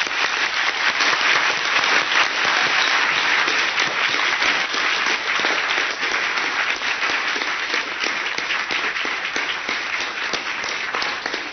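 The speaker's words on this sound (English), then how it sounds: "let's show our heartfelt appreciation for all our phenomenal, fabulous guests. Another round of applause, please." Audience applause for guests at a large gathering, a dense, sustained roar of many hands clapping that stays loud and steady for the whole stretch, easing only slightly toward the end.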